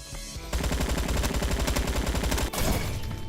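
Rapid automatic AK-47 fire in the Roblox game Bad Business, a loud sustained burst of closely spaced shots after a short lead-in, with a brief break before firing resumes.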